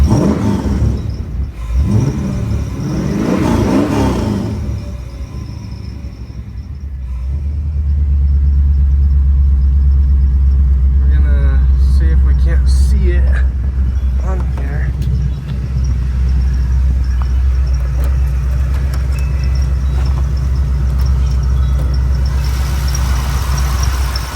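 LS-swapped BMW E36 engine cranking and starting, then settling into a deep, loud rumbling idle with some revving, close by. Someone talks over it early on.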